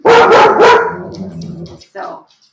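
A dog barks three loud, close times in quick succession, followed by softer whimpering yips and one more short bark near the end.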